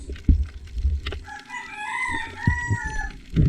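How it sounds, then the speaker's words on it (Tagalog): A rooster crows once, a drawn-out ringing call, over scattered thumps and rustling bumps nearby. "Andiyan na naman ang pasaway na manok."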